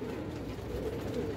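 Domestic pigeons coo softly in a loft, a low murmuring burble that runs steadily through the short stretch with no voices.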